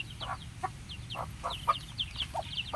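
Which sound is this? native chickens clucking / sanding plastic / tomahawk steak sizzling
native chickens clucking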